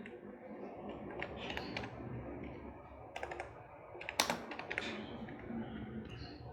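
Quick bursts of typing on a computer keyboard while a ledger name is entered in accounting software, light clicky keystrokes in uneven clusters over a soft room hum, no talking.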